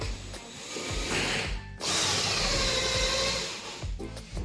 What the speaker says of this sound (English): we'll just drill the pre-hole